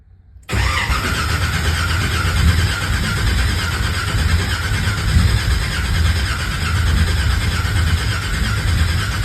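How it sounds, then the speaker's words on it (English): A big-block Chevelle with Aces EFI fires up and holds a loud, steady rumble close by, the throttle cracked open by hand for the whole stretch with no talk. "We go crack the throttle a little bit, just with your hand."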